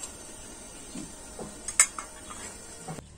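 Carp fish curry with potato and tomato stirred in a pot, soft scraping and a few metallic clinks of a utensil against the pan, quiet and close with no talk.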